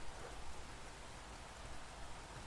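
Moist rain falls steadily as an even, quiet hiss, continuous with no pauses.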